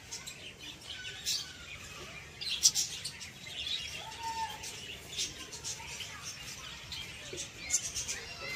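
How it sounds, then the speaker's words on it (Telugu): Small birds chirping and tweeting in a village-museum setting, with scattered high, faint calls over a quiet ambient background and no talk. "మీకు పిట్టల సౌండ్ వినపడుతుందా?"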